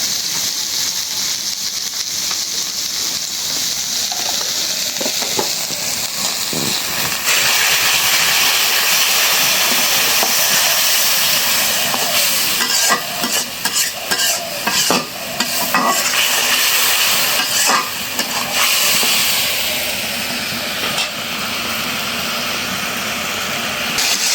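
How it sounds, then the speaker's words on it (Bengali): Fish masala sizzling loudly in a pan while being stirred, a dense continuous frying hiss with scraping strokes of the spoon breaking through in bursts, close and alone. "মশলাটা ভালো করে কষায় নিলাম"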